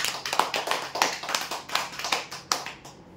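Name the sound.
audience applause for a prize winner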